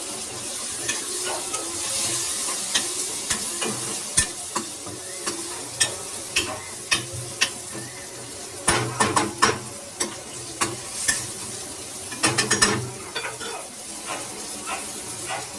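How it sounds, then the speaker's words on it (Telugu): Curry leaves and dried prawns fry in a pan for a ridge gourd curry. A steady close sizzle runs throughout, broken by repeated scraping stirs and sharp spatula clinks against the pan, with no talking. "దీనిలోనే కొంచెం కరివేపాకు కూడా వేసాను."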